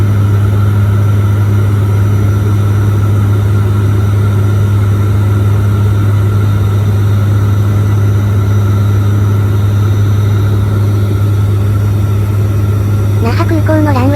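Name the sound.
airliner descending to land at Naha Airport runway 36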